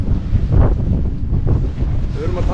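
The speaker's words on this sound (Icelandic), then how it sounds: "Vindurinn þarna." Wind roars steadily across the microphone at sea during a sailboat race at the Icelandic championship, a constant low buffeting rumble with a hiss of surf or water beneath it, close and continuous with no talk.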